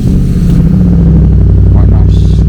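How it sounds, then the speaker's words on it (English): A Lexus SC430's engine idles from cold with the windows down, giving a steady, loud low rumble with an even throb that runs unbroken throughout. "I just want you to hear what the engine sounds like"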